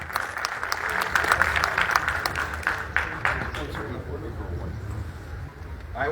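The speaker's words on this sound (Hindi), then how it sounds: "एक बार जोरदार तालियां हो जाए।" Applause from a core team welcoming a guest at an Indian corporate gathering, a loud burst of many hands clapping in the first three seconds, then fading into room noise with murmuring voices.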